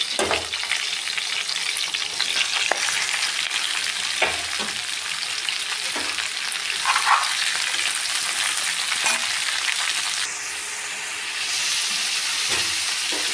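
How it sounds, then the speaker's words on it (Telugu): Green chilies and cabbage fry in a hot pan, giving a steady, loud sizzle throughout with occasional clicks of stirring. The sizzle dips briefly near the end, and no one speaks. "పచ్చిమిర్చి చూడండి ఎలా ఫ్రై అవుతుంది"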